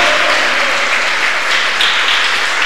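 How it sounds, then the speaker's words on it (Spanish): Church congregation applauding during a Spanish-language sermon, a loud, dense, even roar of many hands clapping together, filling the whole space without pause. "Démosle palmas al Rey de Reyes y Señor de Señores"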